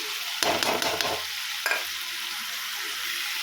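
Chicken frying in a pan with cumin powder, coriander powder and chicken masala, stirred with a utensil: a quick run of clattering scrapes up close, then a softer lone scrape over a low, steady sizzle.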